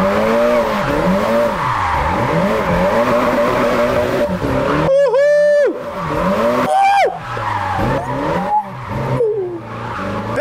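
Racing game car drifting, with loud engine revving that rises and falls and sharp tire squeals sliding up in pitch, heard close and alone.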